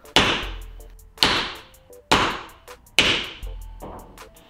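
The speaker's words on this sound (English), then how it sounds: "I used the same template to center punch all the holes." A hammer strikes a center punch into steel sheet metal to mark hole locations, four sharp metallic whacks at an even pace, each ringing briefly and decaying, close and loud with no talk.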